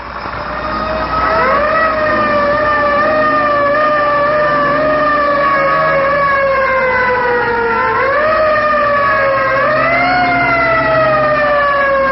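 A loud wailing fire siren in Cornwall, Ontario, 1958, rises and falls in long sweeping tones, steady and close, with no voices over it.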